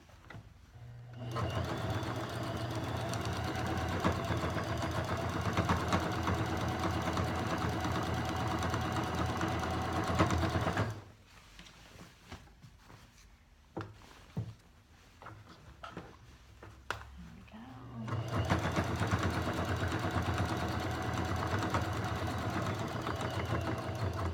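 A sewing machine stitches an elastic waistband that had been rolling over, running in a long steady burst, pausing with a few quiet handling noises, then running again at a close, even hum.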